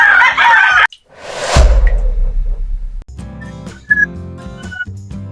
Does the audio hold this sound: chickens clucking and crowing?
yes